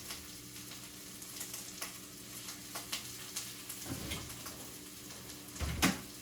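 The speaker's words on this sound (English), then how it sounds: "while you have your leeks cooking" Leeks sizzle steadily in a skillet, a continuous frying hiss broken by a few sharp clatters and utensil knocks, with a louder scrape near the end.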